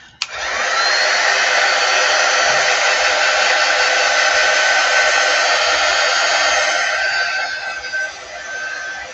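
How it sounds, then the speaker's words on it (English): A handheld quick dry heat tool blows steadily at close range, drying a silkscreen transfer, a loud continuous hissing whoosh that starts abruptly and holds nearly constant before easing slightly at the end. "I'll plug my quick dry tool in."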